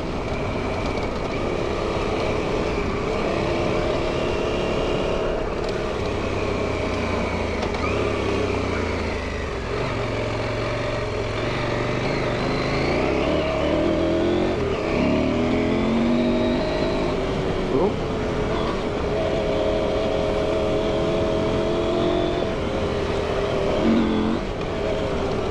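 A tractor drives along carrying weight on the back, its engine droning steadily with shifting pitch as it climbs and eases, mixed with rattling and rumbling from the machine, close and continuous with no talk.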